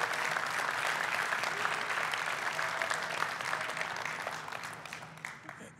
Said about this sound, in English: So I want a huge round of applause for the ambassadors,